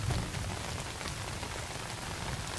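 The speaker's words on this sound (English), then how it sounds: "It's still raining a little bit." Steady rain patters densely on a surface nearby in the woods of the Irish Wilderness, southern Missouri, after a thunderstorm, a constant hiss of drops with no pauses or voices.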